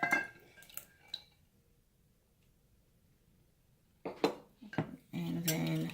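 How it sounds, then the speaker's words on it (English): Egg beaten by hand in a bowl for brownie batter: a few metal clinks, a quiet pause, then a quick burst of whisk strikes against the bowl and a steady rapid whisking at the end. "And then just beat the egg"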